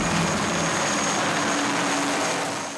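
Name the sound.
military helicopter approaching to evacuate wounded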